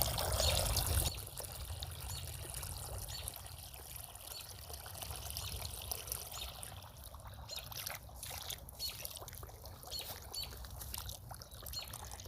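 Hellebores in a small garden get a thorough watering, with a steady, close hiss and trickle of water running throughout and no talk over it.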